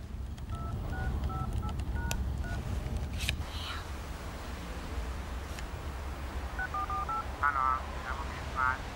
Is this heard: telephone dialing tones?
yes